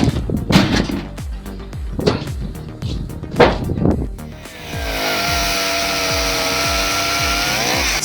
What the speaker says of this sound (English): This chainsaw-mounted firewood cutter turns raw muscle into clean precision cuts.